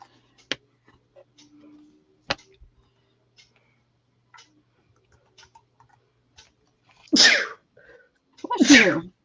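Two sharp sneezes near the end, close and loud, after a quiet stretch of scattered soft ticks and clicks.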